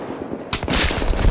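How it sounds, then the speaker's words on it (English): An enemy sniper fires on the player in Battlefield 3, a loud, dense burst of gunfire cracking in suddenly halfway through and continuing as a sustained volley until the end. "Oh, there's a sniper. Yep, he's shooting at me too."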